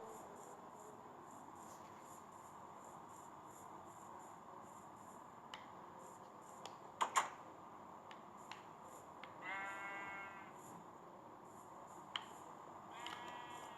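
Sheep in the Minecraft video game bleat twice in short, wavering calls over a quiet background, with a few soft clicks scattered through the scene.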